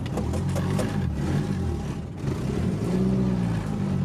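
Nissan 240sx engine pulling up a driveway, a loud, close, rough mid-pitched engine note that dips briefly and then surges again.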